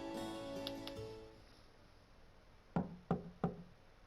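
Three sharp knocks on a door in the game Trails of Cold Steel, evenly spaced and fairly close, following a quiet stretch of soft game music.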